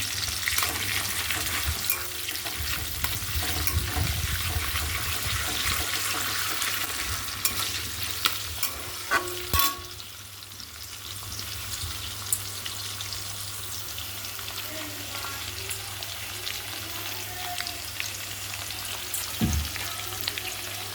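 Capsicum and ginger paste fry in a pan for a vegetarian paneer dish, giving a continuous low sizzle broken by scattered clicks and scrapes of stirring.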